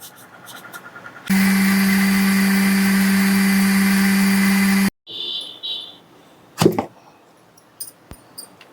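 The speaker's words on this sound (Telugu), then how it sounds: "సామలు, బియ్యము, అన్నము నానేసుకున్నాం కదా, ఇవి కలిపి ఇప్పుడు మిక్సీ వేసుకుందాం" An electric mixer grinder runs on soaked little millet, rice and dal, a loud steady whirring drone for about three and a half seconds, then stops, followed by a few clattering knocks.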